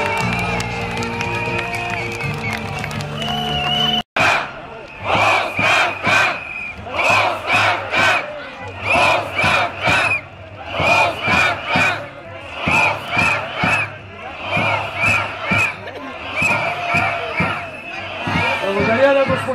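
A large outdoor political rally crowd in Plovdiv claps and chants in rhythmic bursts after music cuts off, loud repeated waves of unison cheering with clapping beneath, steady and energetic throughout.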